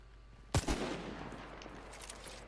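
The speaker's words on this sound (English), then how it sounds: "Just me firing." A single weapon fired by the player in a video game, one sharp loud report followed by a short burst and a decaying rumbling tail over quiet background.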